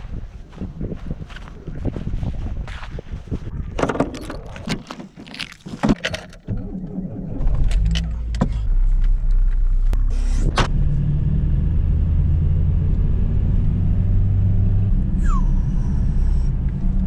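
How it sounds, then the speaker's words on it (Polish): A car is started on a cold, snowy day and pulls away. Thumps and handling noises come first, then the engine catches into a steady, loud, close rumble that holds to the end. "ja odpalam furkę, sadzam go do bagażnika i jedziemy"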